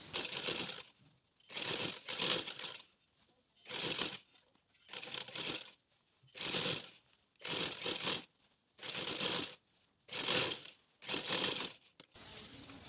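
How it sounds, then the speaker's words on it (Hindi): A sewing machine runs stitching along the belt of a child's tulip salwar in about nine short bursts of rapid clatter separated by brief pauses, close and distinct with no talk. "अब हमने बेल्ट के ऊपर जो है वो एक सिलाई लगा लेनी है।"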